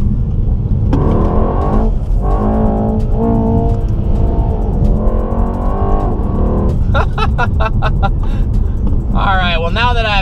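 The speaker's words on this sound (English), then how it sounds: "I put the car in drift mode. Let's see if we can send it a little bit on this hairpin" A McLaren sports car in drift mode on a track hairpin on a hot day roars loudly at close range, its engine climbing through revs and shifts under continuous cabin talk.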